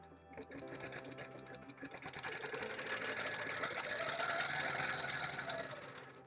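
A sewing machine quilts straight lines across a bird panel quilt, running in a steady, even mechanical whir that swells slightly louder through the middle, close by and with no speech.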